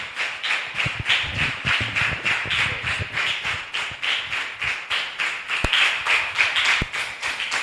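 A crowd claps in a fast, steady rhythm, hands beating together continuously and loudly throughout.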